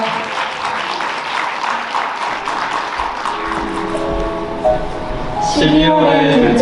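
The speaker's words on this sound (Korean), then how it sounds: "신랑 식구 맞절 뜨거운 박수 부탁드립니다." Warm applause from wedding guests at a Korean wedding ceremony during the couple's and families' bows, loud and continuous at first, then thinning as melodic music swells in and takes over near the end.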